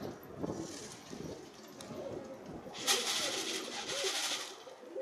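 Pigeons gather close at someone's feet while being fed, giving soft low cooing calls amid scattered bird noise, with a brighter burst of fluttering or rustling in the second half.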